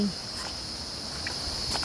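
Steady high-pitched insect chirring fills the background, a continuous shrill drone with faint rustling, no voices.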